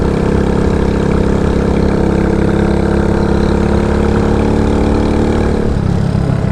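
An RPS Condor CG250 motorcycle fitted with a Kipa 28mm flat-slide carburetor pulls hard in fifth gear, a loud continuous engine roar with rising tone that drops off near the end; no speech.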